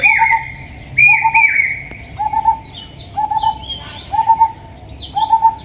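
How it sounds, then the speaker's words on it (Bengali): Morning birdsong outdoors near a riverbank meadow: repeated bright whistled calls in short phrases roughly every second, with other chirps and trills layered over a soft breezy background. "সকালবেলা কত সুন্দর পাখির ডাক"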